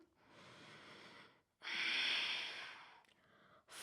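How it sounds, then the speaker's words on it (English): Deep, audible breathing during an Ashtanga yoga class, a long breath followed by a stronger, louder exhale and a shorter third breath, close and alone with no talk. "Deep breaths."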